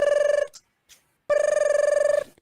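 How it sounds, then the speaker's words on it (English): A telephone rings in two loud bursts of rapid electronic trilling separated by a short silence, close and clear with no voices over it. "Betty, can you get the phone, please?"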